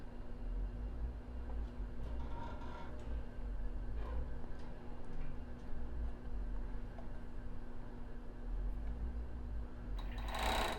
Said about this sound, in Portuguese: E agora eu vou costurar esse ladinho da costura aqui no lado da frente